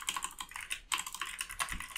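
Quick, close, light clicking of a computer keyboard as a file name is typed, a rapid run of keystrokes with one brief pause.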